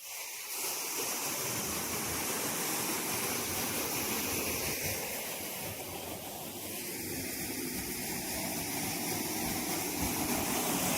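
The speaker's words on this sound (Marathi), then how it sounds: "तर आता चालू झालेलं आहे मोटर." A farm water pump motor runs while water gushes steadily from its outlet, a loud, continuous broadband rush with no breaks throughout.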